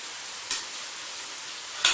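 Egg noodles stir-frying with sauces in a pan over medium heat: a steady, even sizzle runs throughout, broken by two brief louder scrapes as the noodles are tossed.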